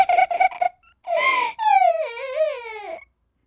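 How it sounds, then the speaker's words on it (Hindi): Crying heard in a forest as a story sound effect, a short burst of sobbing gasps followed by a long, wavering, high-pitched wail that fades out, alone and close. "तभी उसे रोने की आवाज आती है"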